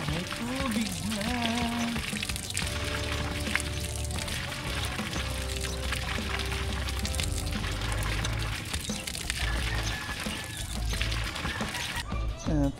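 Water pours steadily while plants are watered, a continuous close splashing flow running throughout under faint background sound.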